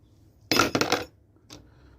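An old metal spoon, among objects found while metal detecting, is set down with a sharp clattering clink followed by a fainter second tap, close and alone.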